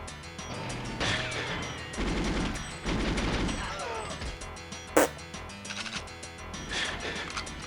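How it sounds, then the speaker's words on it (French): Crashing blasts and rapid impacts from a grenade going off in the video game GoldenEye, a loud burst of layered explosive noise with a sharp crack partway through, fairly close and continuous. "Aïe, grenade!"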